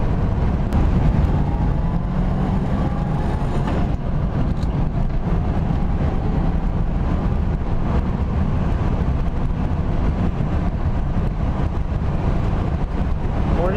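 A 1968 Ford Mustang coupe with its original stock exhaust cruises at highway speed, around 65 mph, giving a steady, continuous engine drone and road rumble with wind noise throughout, no talking.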